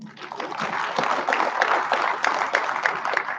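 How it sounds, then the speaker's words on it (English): Audience applause at a DevOps conference, a dense, steady clapping from a crowd filling the room, fairly loud and continuous throughout. "Another round of applause for Sharon."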